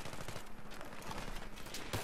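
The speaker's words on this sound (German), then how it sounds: "das ist ein Sniper, der auf mich schießt" Sniper and other gunfire in Battlefield 3 on the Noshahr Canals map, dense rapid shots and blasts packed throughout, loud and continuous with a heavier report near the end.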